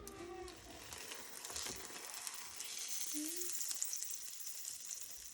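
A plain egg omelet cooks in a pan, giving a steady soft sizzle and crackle that runs throughout. A few brief clinks or scrapes sit over the frying.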